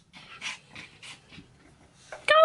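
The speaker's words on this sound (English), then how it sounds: "You're making all these snorting noises." Coco the dog pants and snorts in a quick series of close, breathy puffs, then lets out a louder snort and whine at the end.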